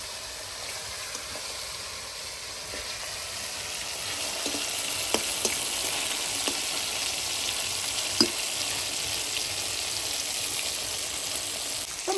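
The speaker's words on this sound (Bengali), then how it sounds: "তো মাছগুলো আমি একদম লাল লাল করে ভেজে নিয়েছি" Spice-marinated katla fish fry in a pan with a continuous, even sizzling hiss and a few faint clicks, steady and close throughout with no talking.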